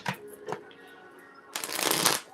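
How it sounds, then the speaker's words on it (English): Tarot cards being shuffled: a few quick riffling bursts at the start, then a longer, louder shuffle close by, with no talking. "we're shuffling the tarot"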